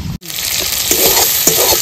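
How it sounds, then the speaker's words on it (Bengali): Hot oil with turmeric and salt spluttering in a covered pan, a loud continuous crackling sizzle after a brief dropout, no speech. "তেলটা যেহেতু ফোটে তার জন্য আমি চাপা দিয়ে নেব।"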